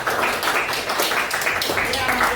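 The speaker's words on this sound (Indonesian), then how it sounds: "Jadi semuanya benar ya, tepuk tangan dulu." A schoolroom class claps hands together in a steady, dense burst of applause lasting a couple of seconds, fairly close and even in loudness.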